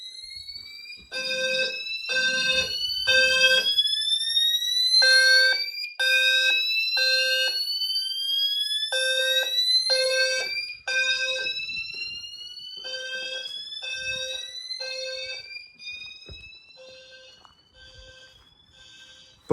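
Garage and house fire alarm systems sound together in loud, repeating bursts of shrill electronic tones, with rising sweeping tones layered over them, continuing steadily before thinning out near the end.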